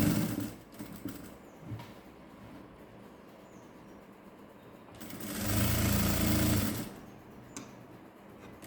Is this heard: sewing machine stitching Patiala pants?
yes